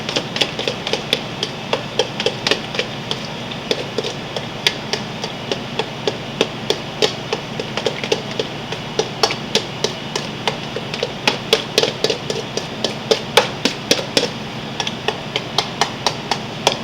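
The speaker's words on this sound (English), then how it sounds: "Take a little of the jalapeno ginger. And then you just whisk that up together." Deviled egg filling with jalapeno ginger whisked in a bowl, a quick, steady train of light tapping clicks from the whisk lasting throughout, close and fairly loud, no voices.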